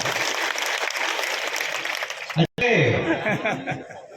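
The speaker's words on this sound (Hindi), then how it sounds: "तो एक बार जोरदार भारतीय जनता पार्टी की सरकार के लिए ताली बजाओ" Crowd at a rally for the BJP government clapping loudly and steadily, with chuckles and voices mixed in, then a brief cut of near silence before the clapping and crowd noise resume strongly.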